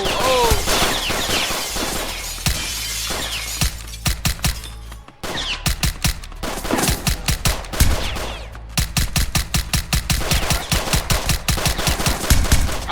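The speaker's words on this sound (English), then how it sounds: "I just missed every fucking shot." Suppressed ARP rifle gunfire in a video game, rapid bursts of muffled automatic shots repeating in clusters with brief pauses, loud and close throughout.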